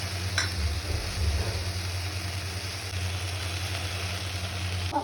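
Onions and tomatoes, heavy on the tomato, sautéing together in a pan for a bitter gourd fry, giving a steady soft sizzle with occasional stirring scrapes over a low constant hum.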